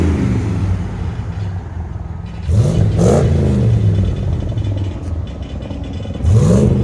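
A 1993 Ford F-150 single-cab pickup with a 5.0L V8 and Magnaflow exhaust idles with a deep, lumpy burble, then revs sharply twice, each blip rising and falling back, heard up close and loud.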